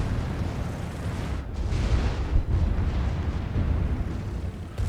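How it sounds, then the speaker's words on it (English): Secondary guns on the Pomerania battleship fire in a World of Warships naval battle, rolling booms and bursts piling up into a continuous, rumbling barrage. "You can see finally the Pomeran secondaries are now shooting at Norg."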